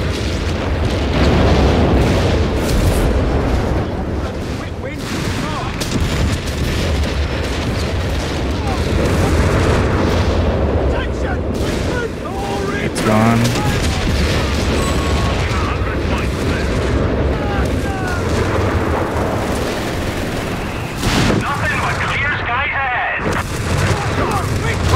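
Artillery barrage explosions in Company of Heroes 3 rumble as repeated heavy booms and bursts over about 25 seconds, dense battlefield noise throughout with someone talking over it.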